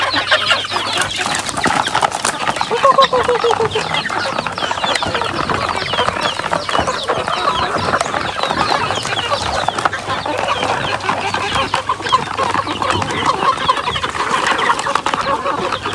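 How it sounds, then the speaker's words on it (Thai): Many backyard chickens at a rural Thai home clucking and calling together in a continuous, busy, close flock chorus without speech. "ไก่ในบ้านก็จะมีประมาณนี้นะคะ"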